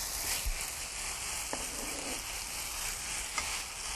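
Japchae with fresh ginseng, burdock and green chili stir-frying in a pan, a soft even sizzle with a couple of faint utensil clicks, close but fairly quiet.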